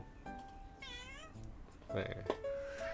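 A single rising-and-falling meow from a cat in the game inZOI comes through clearly, with brief electronic interface chimes and clicks around it.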